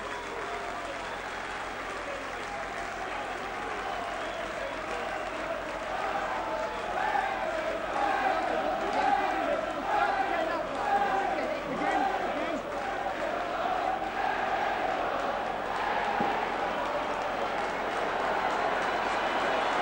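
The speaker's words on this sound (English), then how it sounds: "Rapturous applause from the Wigan supporters for Steve Ella and also for Colin Whitfield" Wigan rugby league supporters applaud a try at a Lancashire Cup final against Warrington, a broad steady roar of clapping and crowd noise swelling and holding throughout.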